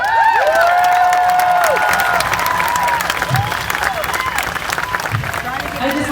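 An outdoor crowd at a March for Science rally applauds and cheers loudly, with whoops and shouted voices over steady clapping that slowly thins out.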